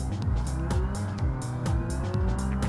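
A petrol sports car launches from launch control in a racing video game, the engine revving hard through rapid upshifts with repeated rising whines and brief gear-change dips, loud and close.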